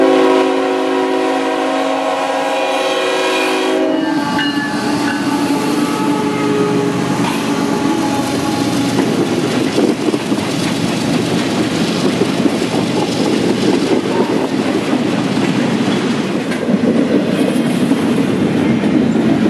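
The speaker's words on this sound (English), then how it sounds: "Now for some CSX. For sure this time." A CSX freight train rolls past loudly and close, a horn sounding over the first few seconds before giving way to a steady rumble of wheels and rattling cars.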